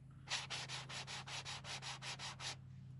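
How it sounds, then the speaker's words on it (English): Sandpaper rubbed by hand over high spots on a repaired part of farm harvest equipment, a dozen steady back-and-forth strokes close up over a low constant hum. "I'm just coming back and sanding these high spots down"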